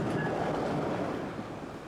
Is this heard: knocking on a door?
no